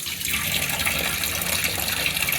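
Water from a tap gushes steadily and loudly while hilsa fish is washed, a continuous close splashing rush with no speech.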